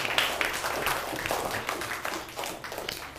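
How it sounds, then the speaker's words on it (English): Classroom applause for pupils during an English lesson: a burst of many hands clapping together, steady and fairly close, lasting a few seconds without talk. "Claps for them."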